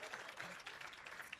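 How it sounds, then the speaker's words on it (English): An audience at an employee service awards ceremony claps for the nominees, a quiet, distant wash of applause that stays even and soft throughout, with no clear voices over it. "A round of applause for the nominees."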